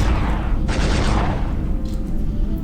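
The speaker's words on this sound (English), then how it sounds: "That torpedo just clipped him real good." Torpedo fire in the Star Trek Klingon Academy space combat video game, a loud sustained roaring blast with a sharp hissing burst partway through.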